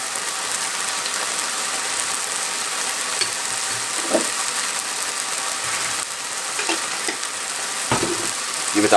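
Pak choi and salt fish stirred in a hot pan, giving a continuous loud sizzle broken by occasional scraping clinks of the spoon against the pan.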